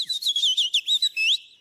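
A man whistles an imitation of a robin's song at a birdsong contest during a bird festival in the Baie de Somme: a quick run of high warbling, sliding notes in short bursts, clear and close, with no talk.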